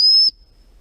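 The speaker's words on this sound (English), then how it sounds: "the stop whistle" One short, sharp blast on a gundog training stop whistle, loud and close, cut off abruptly with near silence after.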